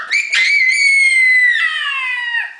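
A child imitates a chicken with one long, high, sustained squealing call that slides slightly downward near the end, loud and close, with no other talk.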